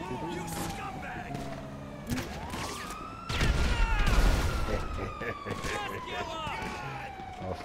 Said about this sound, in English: Even better, I've got a grenade launcher.